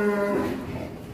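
In a two-storey barn holding over a thousand very tall cattle, a short, low moo sounds close by and quickly fades into the dull background of the barn.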